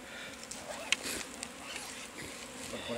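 Wild bees buzzing around a fallen log being harvested for colonies, a continuous close hum of many insects with a few faint ticks and taps.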